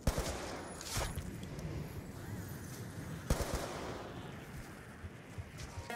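Gunfire and explosive bursts from a Call of Duty Black Ops 2 Zombies match, a dense continuous rattle with two sharper loud blasts standing out, no voices.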